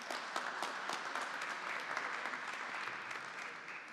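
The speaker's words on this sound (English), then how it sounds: "So let's do a round of applause for them." A tech summit audience gives a dense, steady round of applause that stays loud and continuous the whole time, with no voices on top.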